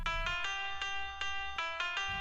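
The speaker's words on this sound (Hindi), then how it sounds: "तभी वहां सूरज का फोन बजने लगता है" A mobile phone rings with a repeating electronic ringtone melody, steady and clear, its tones pulsing in a quick regular pattern.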